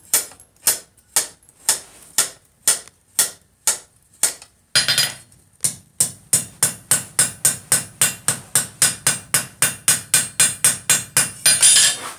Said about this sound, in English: You want to be able to see it progress when you hammer on it.